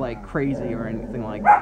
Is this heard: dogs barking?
yes